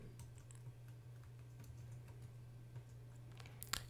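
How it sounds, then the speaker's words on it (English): A computer keyboard typed on during spreadsheet data entry gives faint, steady clicking keystrokes at a quiet level, with a short burst of louder clicks near the end. "you can just hit shift tab and type over it again"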